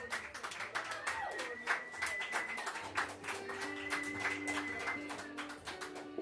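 Audience applause at a live pop music show, a steady patter of claps continuing for several seconds with faint tones and voices mixed in beneath.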